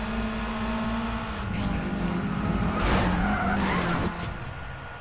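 Tires squeal and skid as a car nearly spins out while racing in the Need for Speed Undercover video game, a sustained screech over a steady engine drone with no talk.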